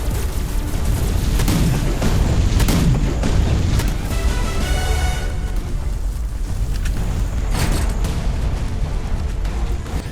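Heavy booms and blasts from cannon fire in the video game Warlander erupt repeatedly amid a dense, roaring battle din, several loud impacts spread across the stretch.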